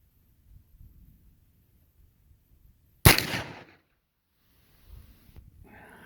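Muzzleloader rifle firing a single sharp, loud close-range shot that breaks a quiet stretch and fades into a brief rolling tail, with faint handling sounds before and after.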